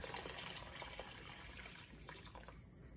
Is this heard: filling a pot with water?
yes